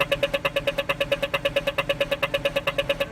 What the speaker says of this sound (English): you press the button, and then when the walk sign turns on, you hear this rhythmic sound that I love and that Billie loved